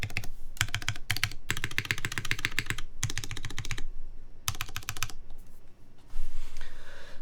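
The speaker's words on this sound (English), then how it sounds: "Sounds like a full-size keyboard" Bursts of brisk typing on a Carolina Fossil mechanical keyboard, crisp clustered keystrokes close to the microphone with short pauses between runs, and a soft thump near the end.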